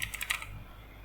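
Quick burst of about four or five computer keyboard keystrokes while typing a /imagine command for Midjourney, crisp and close, then fading to quiet room tone.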